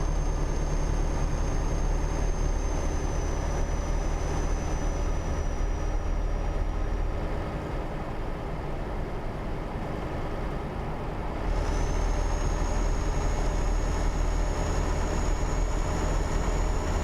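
Steady engine drone and rushing wind of a truck driving with its window down in Euro Truck Simulator 2, a continuous broadband rumble with a faint whining tone that dips briefly before returning.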